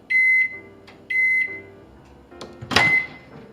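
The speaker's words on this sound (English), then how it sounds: "after it's done, you can wipe out your microwave" A microwave oven heating a wet sponge ends its cycle with loud electronic beeps, two long tones followed by a short one, with quiet clicks and a door-like clatter in between.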